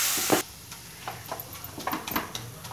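Khoa and mango ladoo mixture being stirred in a pan over medium flame, a soft scraping and shuffling with light sizzle, preceded by a brief louder burst at the start; no talk.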